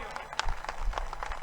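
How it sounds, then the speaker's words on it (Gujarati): An audience at a Patidar community gathering claps briefly, a short patter of uneven hand claps in a large hall. "આ બંને માટે તાળીઓ પાડજો ભાઈઓ"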